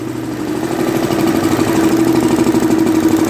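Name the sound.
single cylinder diesel engine running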